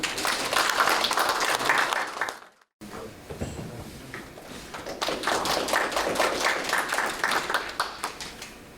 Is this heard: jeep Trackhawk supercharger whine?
no